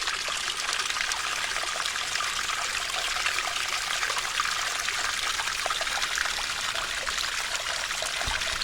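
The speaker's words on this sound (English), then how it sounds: "Got lots of these little springs just pouring out the side of the hillside here." Water gushes steadily from little springs in the side of a wooded hill on Peter's Mountain, a constant near splashing trickle at even loudness throughout, with nobody speaking.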